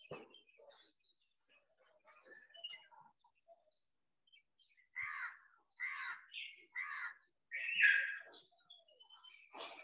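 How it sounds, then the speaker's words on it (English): Several crows caw in a short run of harsh, evenly spaced calls at a moderate distance, preceded by scattered faint bird chirps in an otherwise quiet outdoor setting. "We are hearing some crows"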